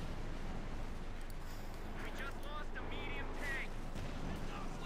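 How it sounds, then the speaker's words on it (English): Anti-tank guns firing on tanks in Company of Heroes 2, faint muffled booms and impacts under a steady rumble of battle noise while a commentator talks throughout. "Taking hits from the anti-tank guns."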